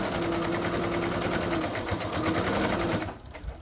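A sewing machine runs a continuous fast stitching buzz while sewing an armchair caddy, steady and close for about three seconds before stopping abruptly, with no voices.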